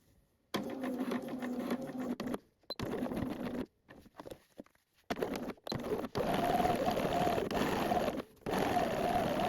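A sewing machine stitches a pocket lining on a pair of trousers in several close bursts of mechanical whirring, with short pauses between runs and a longer steady run near the end.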